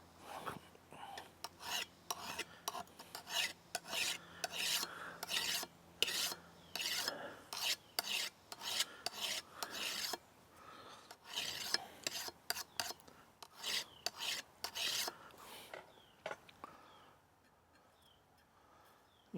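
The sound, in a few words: filing a burr on a garden hoe blade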